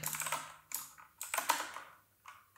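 Someone types code on a computer keyboard in bursts of quick, close key clicks separated by short pauses, with no voice over them.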